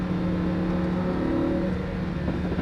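Lamborghini Huracan engine on a race track, a steady loud mechanical drone as the throttle is squeezed, holding a sustained rev with a slight rise and fall, no talk.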